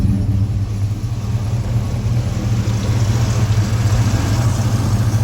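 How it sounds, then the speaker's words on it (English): A 1979 Ford F150 pickup with a 460 engine and throaty exhaust rumbles steadily and loudly on a road drive, a deep continuous low drone heard from inside the cab with no talking. "The truck's got some throaty exhaust"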